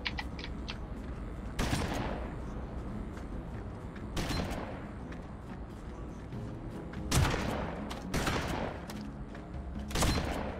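Gunfire in Project Winter: repeated sharp shot bursts crack out at irregular intervals, some in quick clusters, over a steady muffled game background with no talk.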